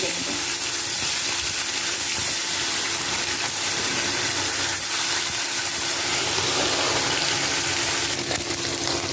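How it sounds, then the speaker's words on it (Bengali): Fish pieces fry one at a time in hot oil in a wok seasoned with tomato paste, cumin and dried chillies, giving a loud, steady sizzle that holds close and constant throughout, with no talking. "এবার মাছগুলোকে আমি এক একে ভেজে নেব।"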